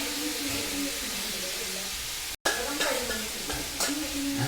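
Chicken fries in a pan with a steady close sizzle, broken by a brief gap and a few sharp stirring clatters.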